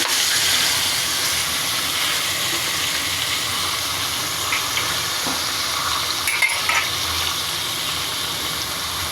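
Beef pieces frying in hot oil make a steady, loud sizzle and hiss, with faint stirring scrapes partway through and no talk.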